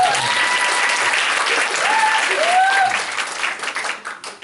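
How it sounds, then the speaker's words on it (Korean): A seminar audience at a sales club gathering claps steadily for about four seconds, dense applause that thins and fades toward the end, with brief tonal chirps of voices riding over it. "박수 한번 쳐요."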